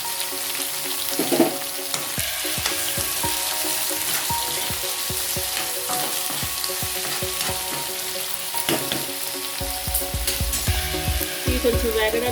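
Onions, green chillies, tomatoes and chopped vegetables fry in a pan for a potato upma curry: constant loud sizzling under a busy, irregular run of spatula scrapes and clinks against the pan.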